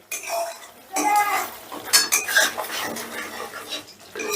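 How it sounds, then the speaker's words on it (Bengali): A spoon scrapes and clatters against a pan as spice paste is stirred and fried for a spicy mung-dal pakora dish, in bursts of close, busy scraping with short pauses between them. "এবারে মশলাটাকে আমি বেশ ভালো করে কষে নেব যতক্ষণ না মশলাটা থেকে তেল ছেড়ে দিচ্ছে ততক্ষণ কষতে হবে"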